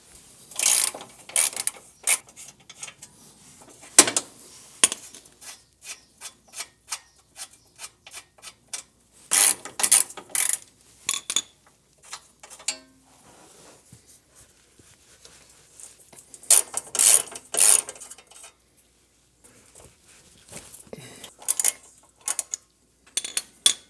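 Ratchet working loose the rear cross member support bolts under a 2020–2025 Subaru Outback, heard as close, irregular bursts of clicking and rasping turns separated by short pauses, with no talking.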